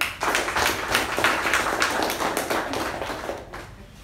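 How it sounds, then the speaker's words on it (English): A Toastmasters meeting audience applauds to welcome the Toastmaster, a dense, steady wash of many hands clapping at moderate loudness that tapers off near the end. "with a big round of applause, let's welcome the charming Toastmaster Latha Nahar"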